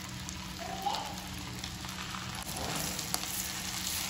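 Meatballs frying in butter in a pan over a medium flame, a steady dense crackling sizzle with a few small pops, close and continuous, no talk.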